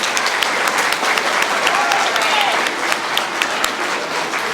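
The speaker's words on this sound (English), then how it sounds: "Give them another round of applause." At a school spring arts festival, an audience applauds: steady, crisp clapping from a sizable crowd with individual sharp claps standing out, holding at an even level with faint voices underneath.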